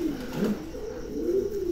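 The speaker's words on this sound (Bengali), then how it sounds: "চমৎকার একজোড়া কবুতর" A pair of pigeons sitting on eggs coo close by in a low, rolling, continuous murmur that swells and dips slightly, with no voices over it.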